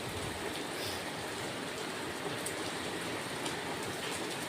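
Rain pours onto a wet Chennai street, a constant soft hiss of countless drops with faint spatters, close by and without voices.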